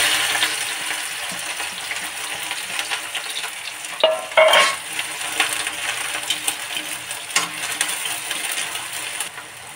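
Soybeans frying in oil with garlic and onion in a pan, giving a steady hiss and sizzle, with a few scraping, clattering stirs and no talking.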